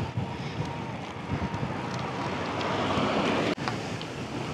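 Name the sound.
wind blowing by the sea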